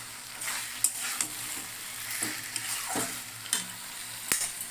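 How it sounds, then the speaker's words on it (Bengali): Onions sizzling in a pan for fried rice, a soft continuous crackle broken by scattered spatula clicks and scrapes, fairly quiet with a steady background hum. "পেঁয়াজটা আমার ভাজা হয়ে গেছে"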